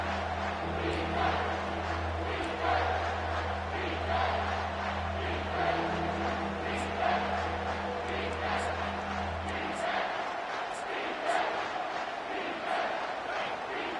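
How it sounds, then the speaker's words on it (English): A large stadium crowd in the NCAA College Football 25 video game roars steadily and loudly throughout, a dense sustained cheer with swelling peaks and a low rumble that drops away near the end. "This crowd rising up, sensing that its defense needs some help."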